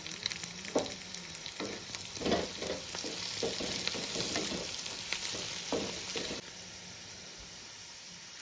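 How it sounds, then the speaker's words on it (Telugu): Curry leaves and onions fry in a hot pan for a tribal-style egg curry, giving a loud, steady crackling sizzle. Repeated spatula stirs and scrapes break through it before the sizzle eases slightly toward the end. "ఓకే, ఓ 2 కరివేపాకు రెమ్మలు వేసుకుందామండి. 2 రెమ్మలు ఆకులు వేసుకుంటున్నాం."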